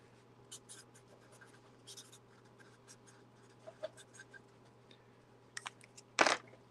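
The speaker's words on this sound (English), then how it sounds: "I better write your name on here now before I forget it." A pen writing on paper, probably a name on a label or form, making faint scratchy strokes in short bursts with pauses, close and quiet, ending in a louder crisp scrape.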